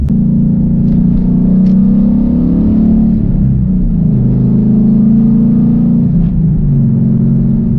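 A 2011 Mustang GT with a Pypes bomb X-pipe exhaust idles close and loud, its deep burbling rumble rising briefly in a light rev before settling back to a steady throaty idle.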